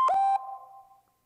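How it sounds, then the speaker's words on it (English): A new phone alert tone: a short bright chime with a brief click at the start, then a soft resonant ring that fades out within about a second, with no voices over it. "They got new ones for alert tones as well."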